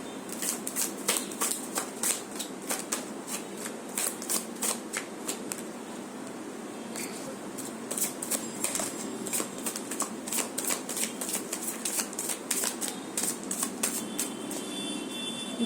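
A deck of playing cards is shuffled again and again, with quick crisp riffling bursts in an uneven rhythm, close and fairly quiet, and no talking.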